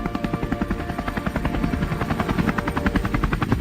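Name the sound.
helicopter flying overhead during boar hunt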